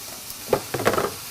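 Pork butt roast dropped into hot oil flavored with onions and prosciutto, giving a short burst of searing sizzle that starts abruptly partway through and crackles briefly, fairly faint and with no talking.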